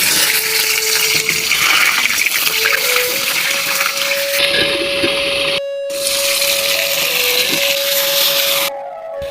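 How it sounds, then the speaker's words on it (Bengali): Pointed gourd (potol) pieces fry in hot oil in a pan, giving a steady loud sizzle and bubbling hiss throughout, with a continuous tonal hum beneath and a few brief gaps. "তেল গরম হয়ে গেছে, আমি পটলগুলোকে এবারে হালকা করে আমি ভেজে নেব।"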